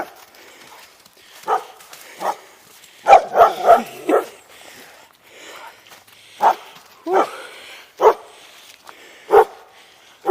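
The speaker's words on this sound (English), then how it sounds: "This dog's mad." An angry dog barks behind a fence in loud, sharp bursts, some in quick clusters and others spaced a second or two apart, with no talk over it.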